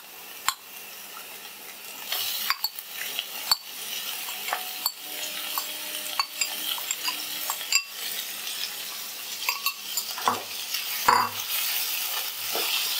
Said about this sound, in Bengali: এবার নারকেল, কাঁচা লঙ্কা বাটা আর এই চিংড়ি মাছ, ম্যারিনেট করা চিংড়ি মাছ খুব ভালো করে আমি কষিয়ে নিচ্ছি।